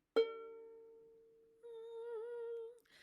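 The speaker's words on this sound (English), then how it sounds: "Now I'll pluck my string," A single violin string is plucked during fine-tuner tuning, ringing clearly and fading over about a second, then a voice hums a matching sustained pitch for over a second in a quiet room.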